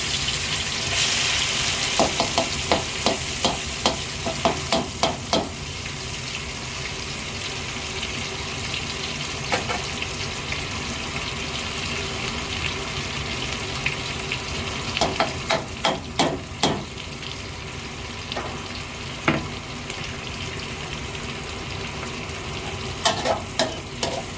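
Chili paste frying in oil over low heat, a steady close sizzle with bursts of clicking and scraping as chopsticks stir it through the pan.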